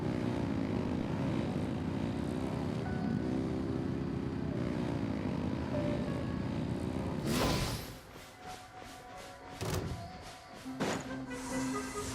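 Engines revving in the Genshin Impact video game: a loud, steady droning roar like an aircraft or propeller engine, which drops off sharply partway through and is followed by scattered clanks and bursts at a quieter level.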